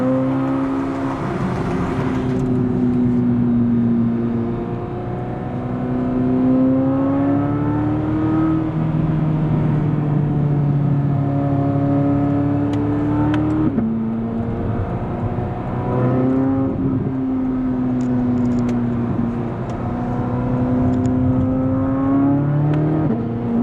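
Corvette C8 Z06 driving on the road, engine note rising and falling through repeated accelerations and gear changes, steady and loud from inside the car, no talking.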